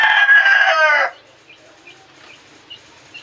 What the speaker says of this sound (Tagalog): Medyo sinwerte naman at may nahuli tayong labuyo.